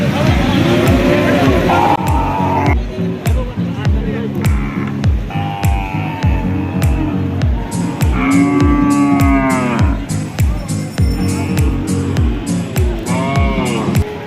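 Thin, bony cattle at a village cattle market in Chaugachha, Jessore, moo loudly several times, their long low calls rising over steady crowd chatter and people talking nearby.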